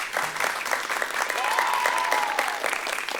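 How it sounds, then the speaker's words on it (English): A school quiz-show audience breaks into a round of applause, many hands clapping in a dense, even patter, with a few faint voices and whoops mixed in. "big round of applause for both schools"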